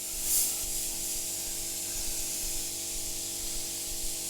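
A Gaahleri Seeker airbrush sprays paint in a steady, soft, continuous hiss, close and fairly quiet throughout, with a faint background hum and no voices.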